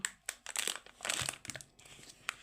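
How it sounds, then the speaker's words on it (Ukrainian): Plastic packaging of a large 100-gram Lasunka ice cream cup with cocoa and boiled condensed milk being unwrapped, giving close, irregular bursts of crinkling and crackling plastic with short pauses between them. "Ось така буде розпаковочка."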